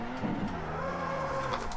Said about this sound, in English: Oh wow, now I spun out on the next corner.